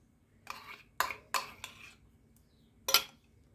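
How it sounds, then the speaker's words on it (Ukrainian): Several quick clinks and scrapes of a spoon against a bowl while stirring a cottage cheese mixture, a cluster in the first second and then one more after a pause, close and fairly quiet. "Гарно все вимішала."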